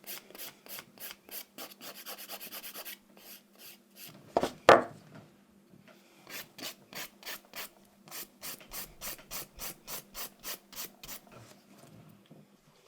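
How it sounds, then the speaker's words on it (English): Hand filing of sculpted acrylic nails: close, rhythmic rasping strokes in quick bursts, pausing briefly for a louder scrape and knock before the steady back-and-forth filing resumes. "once you've finished filing, get rid of all that dust"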